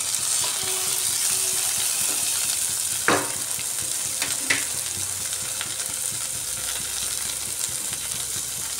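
Chopped tomato frying with moong dal in a pan, a steady close sizzle throughout, with a couple of brief stirring scrapes partway.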